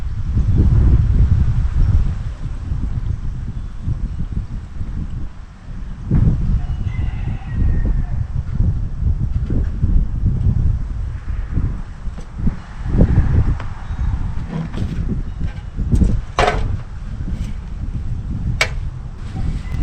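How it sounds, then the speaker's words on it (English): Strong cold wind blows outdoors at about 45 degrees, a loud continuous low rumbling gust noise that buffets throughout, with a few faint bird calls in the distance. "It's cold down here today. It's really windy and it's about 45 degrees."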